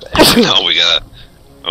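A single quick sneeze bursts out close and loud at the start, followed at once by people talking.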